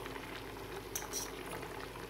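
Steady low bubbling of a pot of pumpkin dessert simmering on the stove, soft and continuous with a few faint pops, no voices.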